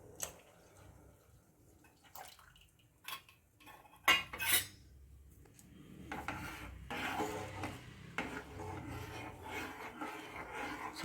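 A spoon scrapes and clinks against a pan while fruit custard made with custard powder is stirred, with irregular metallic taps and rubs, a couple of sharper knocks, then a denser stretch of continuous scraping.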